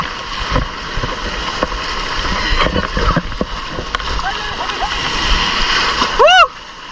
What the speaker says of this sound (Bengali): আপনারা একবার দেখুন কি পরিমাণ ঢেউ